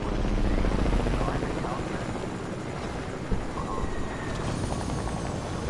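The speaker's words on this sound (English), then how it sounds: "The helicopter coming our way." Helicopter in the Fortnite video game approaching, a steady broadband rotor drone that stays loud and close throughout, with talk over it.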